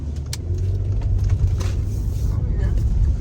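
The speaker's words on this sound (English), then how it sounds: "Give it a little extra gas here." A Mercedes GLE AMG accelerates on a slushy, snowy road, its engine droning low and steady beneath tire and slush noise, with a person talking over it.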